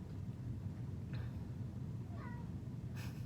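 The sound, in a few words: cat meowing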